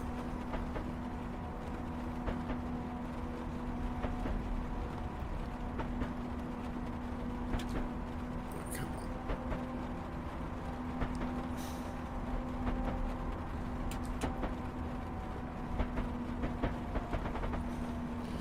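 A train runs in the Train Sim Classic video game on a South Western Railways route, a steady droning engine hum with rumbling wheel noise and occasional faint clicks, continuous and even throughout.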